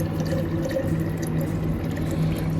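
Water runs from a tap into a bottle in Hong Kong, a steady close stream with a faint tonal hum beneath, continuous and unbroken with no voices.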